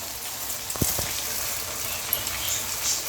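Egg frying in a pan for vegetable rice, stirred quickly: a steady hissing sizzle with a few soft scraping knocks from the stirring.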